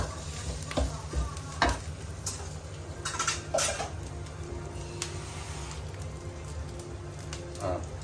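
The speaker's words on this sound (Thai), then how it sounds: "ผัดให้เขาหอมนะระวังไหมนะระวังไหมแต่ต้องหอม" Curry paste stir-fried in a pan for a fried red snapper dish, a continuous sizzle under repeated scraping strokes of a spatula and occasional metal clinks, close by.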